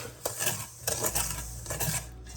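Cake batter with a teaspoon of vanilla being stirred in a bowl for a vintage fruit cocktail cake, the utensil clinking and scraping against the bowl in uneven strokes, close and moderately loud.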